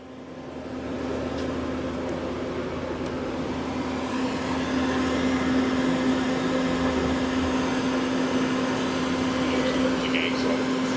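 A Citizen M-20V Swiss-type CNC lathe running its C-axis on the main spindle gives a steady, loud machine drone with a constant hum, heard close and unbroken throughout.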